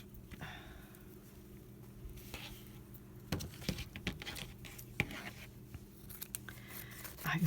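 Scissors snip through neutral quilting fabric for a crazy quilt, quiet at first, then several close, crisp cuts and rustles of cloth toward the end, with no talking.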